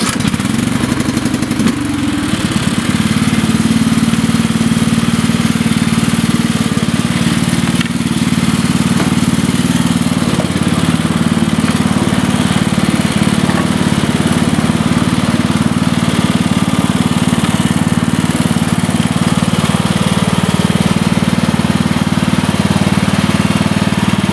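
Lawn tractor engine starting and then running steadily as the tractor drives, a loud continuous mid-pitched drone with light clatter, wheel hubs seized on the axle, no voices.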